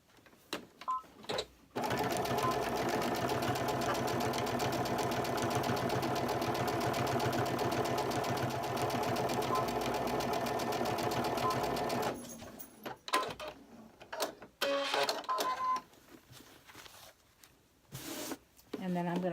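A sewing machine runs steadily for about ten seconds, stitching fabric with a fast, even mechanical buzz, then stops, leaving a few scattered clicks and handling noises.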